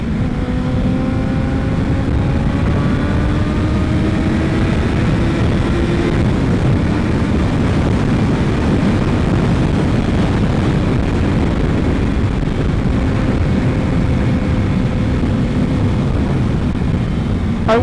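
A 2006 Yamaha FZ1 motorcycle engine revs hard in first gear toward 12,000 RPM, a loud continuous rising whine over heavy wind roar, with the pitch climbing, dipping briefly around six seconds and climbing again.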